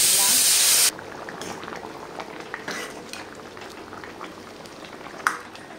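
Mutton gravy simmers in a pot during home cooking, a soft steady bubbling and hiss with faint clinks of a utensil, after a brief loud burst at the start.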